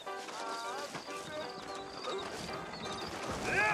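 Horses clip-clop along a street in the Red Dead Redemption video game, steady hoofbeats close by with a whinny near the end, mixed with game music and voices talking.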